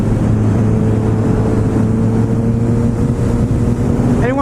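A Benelli 135 small motorcycle engine drones steadily while riding, a constant low hum mixed with rushing wind noise, loud and close throughout.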